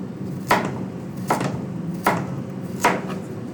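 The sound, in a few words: knife chopping carrots on a cutting board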